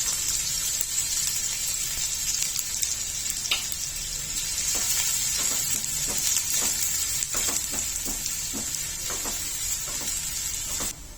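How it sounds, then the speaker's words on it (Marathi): Finely chopped onion fries in an oil tempering with a steady, moderate hiss, while scattered clicks and scrapes of stirring come through and grow busier toward the end. "फोडणीला घातलेला कांदा चांगला शिजलेला आहे"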